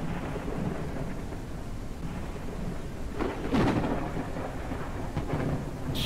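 Thunderstorm inside a video game: steady rain hiss with a low rumble of thunder building midway, heard alone without voices.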